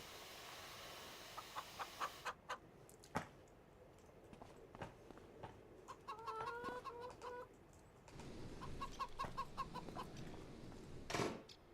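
Chickens in the Farming Simulator 25 game, kept in snow under a roof, cluck and squawk in short scattered bursts over a quiet background, with a few louder calls near the end.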